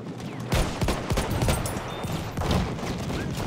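Rapid bursts of gunfire crack through a Battlefield 1 multiplayer match, dense overlapping shots and distant battle noise filling the short stretch without pause.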